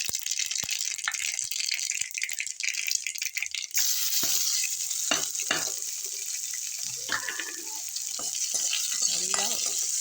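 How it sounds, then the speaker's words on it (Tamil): Crushed onion and garlic frying in hot oil for a South Indian rasam, a steady close sizzle with bursts of stirring and spoon clatter against the pan throughout. "பூண்டு தட்டி வச்சுருக்கேன். அதை இதில் பொரித்து இந்த ரசத்துக்கு ஊற்றணுங்க."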